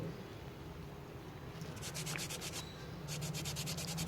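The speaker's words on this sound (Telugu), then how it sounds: "అందుకే కాస్త ఎంటీ పేపర్ తీసుకొని దానిపైన ఫైల్ చేయడం జరుగుతుంది." Emery paper rubbed over a scaled washing machine check nut, a steady close abrasive rasp that turns into short rhythmic back-and-forth scrubbing strokes in the second half.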